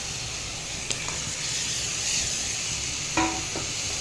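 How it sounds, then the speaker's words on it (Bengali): Mutton pieces going into fried spice masala in a hot pan, giving a steady loud sizzle with a few brief stirring scrapes and clinks, and no talking. "এবার আমি মাটনটা এর মধ্যে দিয়ে দেব।"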